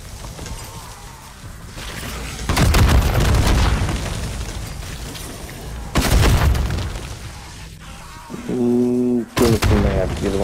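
Rocket launcher blasts in MW3 Zombies: three heavy, booming explosions spaced a few seconds apart, each with a long rumbling tail, over steady game noise, with a brief voice-like tone near the end.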